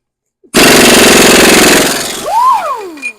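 A loud, close impact wrench hammers on a half-inch bolt on a Mack CL713 truck with an E9 V8 in one sustained rattling burst of about two seconds, then winds down with a falling whine.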